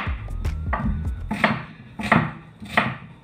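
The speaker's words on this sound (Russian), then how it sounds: "И нарезаю крупным кубиком." A knife chops an onion into large cubes on a cutting board, with sharp, distinct strikes coming at an uneven rhythm, close and clear with no talking.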